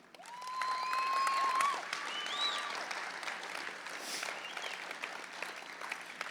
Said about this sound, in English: So I hope we can all give a big round of applause for Jamie Atwood,